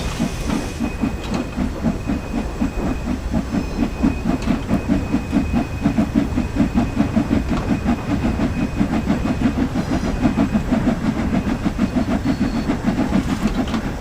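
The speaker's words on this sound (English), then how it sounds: "Let's get the train rolling." A steam locomotive in a train-simulator video game chuffs in a steady, rapid rhythm with hissing steam and rolling wheel clatter, continuous and close throughout.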